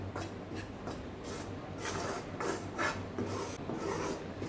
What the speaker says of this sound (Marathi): आता हे पीठ सगळीकडनं भाजून घ्यायचं.